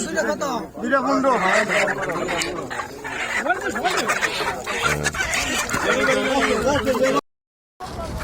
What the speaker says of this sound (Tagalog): nakabili tayo ng dalawang manok na buhay